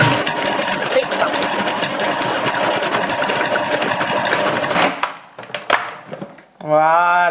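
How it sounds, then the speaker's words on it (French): A Thermomix-type food processor blends coconut and dry ingredients for tart dough, a loud steady whirring motor for about five seconds, then stopping with a few short bursts and clatters before a voice begins. "Ici, c'est dans le robot L'Amant S ou le Thermomix, ce que vous avez, et on mixe."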